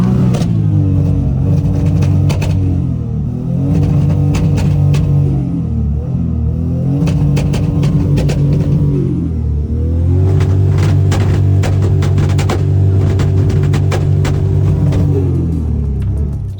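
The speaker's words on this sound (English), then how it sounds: "we can celebrate that we survived the Deutschleife by doing a little bit of launch control" A 1000HP Toyota Supra doing launch control near the Nürburgring: loud, close engine revs held at a buzzing limiter in repeated bursts, with sharp crackles and pops between them.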